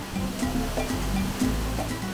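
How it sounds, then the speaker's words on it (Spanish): A waterfall about 12 to 13 metres high, dropping cold water into a deep pool, gives a steady broadband rush with a low rumble, fairly close and unbroken, with no voices. "Esta cascada tiene aproximadamente de 12 a 13 metros de, de altura y el charco tiene aproximadamente 12 metros de profundidad."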